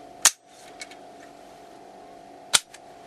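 Sharp metallic clacks from a Calico Liberty II gun as its magazine is removed: two loud, crisp snaps about two seconds apart with faint small clicks between them and a low steady hum underneath.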